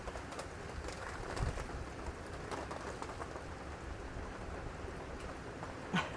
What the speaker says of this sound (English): You can probably hear the rain coming down.